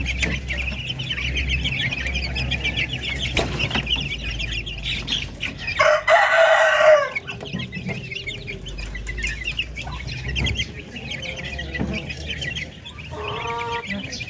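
Month-old Darag and Parawakan chicks cluck and peep steadily at close range, with a brief burst of wing flapping midway and scattered fowl calls around them.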